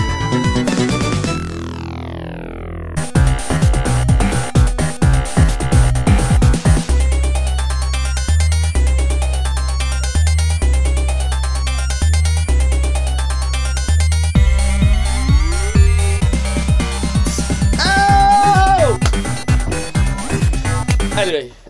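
Streets of Rage video game music from 1991 plays loud and alone: an electronic intro with sweeping synth tones, then a driving, steady beat with bright stabs and a rising, chirping lead near the end.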